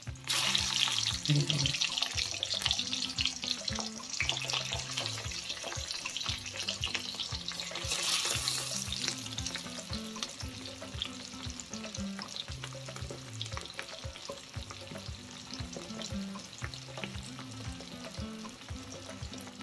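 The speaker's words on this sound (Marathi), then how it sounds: "तेल तापलेलं आहे. आता मी हे एक एक सोडते कारलं." Stuffed bitter gourds are lowered one by one into hot oil in a pan, giving a steady loud sizzle and crackle that continues throughout with no speech.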